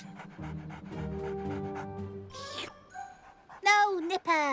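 A dog pants in quick rhythmic breaths near the start, mixed with speech and music in a cartoon scene with a dog trainer, followed by short yips and bright tonal sounds.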